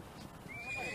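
A horse neighs in a high, rising whinny as riders prepare for a Mongolian Naadam festival horse race, heard close over outdoor noise and soft hoof sounds.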